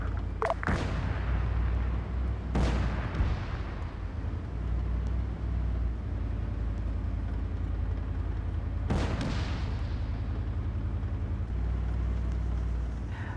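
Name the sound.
tank firing at a building, from a video game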